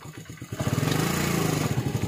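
A motorcycle engine starts and settles into a steady, close, rhythmic throb as the bike begins to move off from a field.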